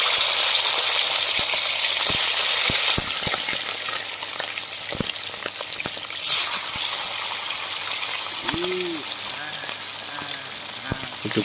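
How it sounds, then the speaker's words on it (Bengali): Chicken fries in oil in a wok, a strong continuous sizzle with sharp spatula clicks and scrapes scattered throughout, and a brief squeaky stir later on, with no talking. "কড়াই তেল বসিয়ে দিয়েছি। এবারে চিকেনটা ভেজে নেব।"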